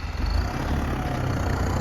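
A Phantom 3085 single-wheel-drive tractor runs steadily nearby in a field, its low engine rumble and hum continuous and moderately quiet throughout.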